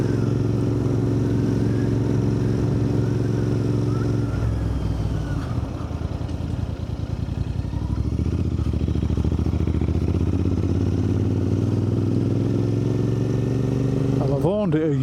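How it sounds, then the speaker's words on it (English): A Royal Enfield Interceptor 650 motorcycle engine idles and rumbles steadily through its exhausts at close range on a Yorkshire back lane, with a deep, throaty tone and a brief rise in pitch near the end. "I just love listening to that engine on them exhausts."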